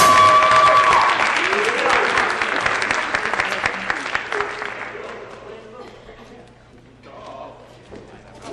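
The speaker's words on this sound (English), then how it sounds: "Let's have another round of applause for the EFHS saxophone quartet." Concert audience applauding the EFHS saxophone quartet at a school spring instrumental concert, loud at first and gradually thinning out, with a voice talking over the clapping and a brief held tone early on.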